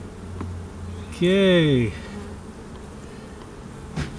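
Honeybees buzzing around a frame during a hive inspection, one loud bee passing close by for under a second against a soft steady hum, with a brief spoken word.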